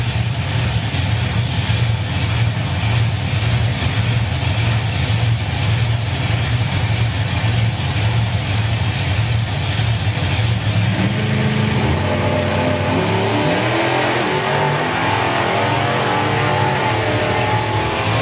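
Supercharged outlaw drag racing cars roar loudly and continuously at Bug Jam, a steady engine blare with a shift toward rougher, gravelly revving midway as the launch builds, no talk over it.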